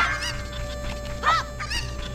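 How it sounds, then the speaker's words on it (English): Chickens in The Legend of Zelda: Ocarina of Time squawk and cluck after being attacked, several sharp honking bird cries over a steady game background. "Let's see what happens if we actually attack the chickens here"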